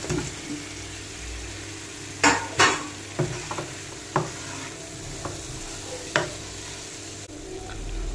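Tuna pieces tipped into frying pickle masala and stirred in a pan, a steady low sizzle broken by several sharp scraping clacks of a spoon against the pan, close by.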